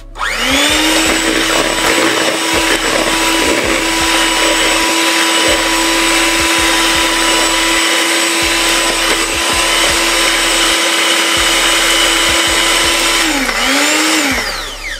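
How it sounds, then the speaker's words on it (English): An electric mixer whisks spiced batter for a Jamaican black fruit cake, whining loudly and continuously throughout with a brief dip in speed near the end. "we're just gonna whisk it in for a bit"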